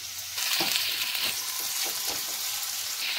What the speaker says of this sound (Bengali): আলু আর গাজরটা আগে একটু ভেজে নিচ্ছি